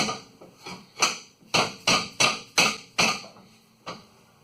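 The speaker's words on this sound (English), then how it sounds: "hammer this over a little bit." Metal is struck with a hammer about nine times during a suspension kit install on a 2019 Ford F250, sharp ringing blows up close in a steady rhythm, tapering to a last lighter hit.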